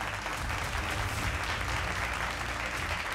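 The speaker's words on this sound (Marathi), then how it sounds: "जोरदार टाळ्या वाजवूयात आपण सगळी मंडळी" Audience at a Simhastha Kumbh Mela panel discussion applauds as a guest is called to the stage, a dense, even wash of clapping from many people throughout, with no talk over it.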